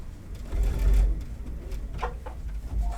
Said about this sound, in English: And I'm just going to sew all the way down